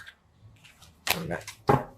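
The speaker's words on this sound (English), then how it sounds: "That was me just not being able to shuffle." Tarot cards shuffled clumsily by hand, with a faint riffle at first, then two loud bursts of cards slapping and fluttering close by.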